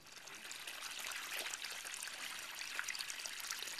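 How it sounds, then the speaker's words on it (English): Gray water from a washer drain hose trickles out of a pipe into the basin around a planted fig tree, a soft steady splashing trickle, faint and close, with no talk. "here you see the gray water coming out of the fig tree pipe to irrigate the basin in which we have the fig tree planted"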